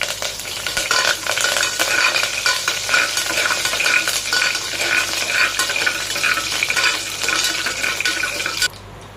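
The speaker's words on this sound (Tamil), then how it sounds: "கடுகு நல்லா பொரிஞ்சு வரட்டும்." Mustard seeds, chana dal and curry leaves fry in hot oil for kovakkai kulambu, a loud, steady, crackling sizzle with spattering pops close by and occasional stirring, cutting off abruptly at the end.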